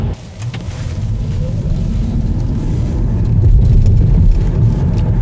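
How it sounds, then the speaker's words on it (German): A BYD Dolphin electric car rolls over tram tracks, a steady, loud low rumble of tyres and road noise from inside the cabin with a few faint knocks, no voices. "hier die Straßenbahnschienen souverän gemeistert"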